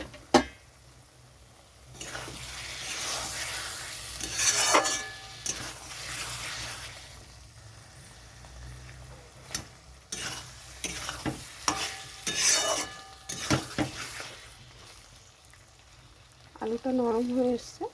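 Spiced fish curry with soft potatoes is stirred and fried in a pan, a sizzle broken by repeated scraping stirs and short bursts of spatula noise, near and moderately loud, with a brief voice near the end.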